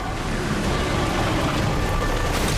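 Heavy rain pours down without a break in God of War: Ghost of Sparta, a dense, loud, steady hiss that fills the whole stretch with no other sound standing out.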